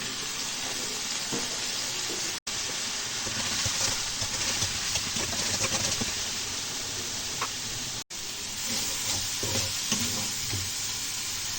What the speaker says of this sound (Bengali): সামান্য জিরের গুঁড়ি দিয়ে মশলাগুলি সুন্দর করে কষিয়ে নেব